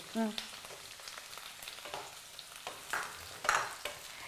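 Onions frying in a pan on a cooking show, with a faint sizzle under intermittent scraping and stirring strokes of a spoon, fairly quiet with scattered clinks.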